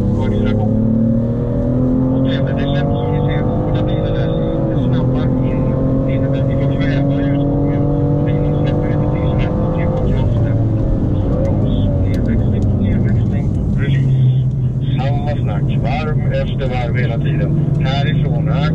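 A BMW M2 LCI and an M4 CS accelerate hard on the Mantorp Park race track, loud engine tones rising through gears with shifts around the midpoint while someone talks over the roar.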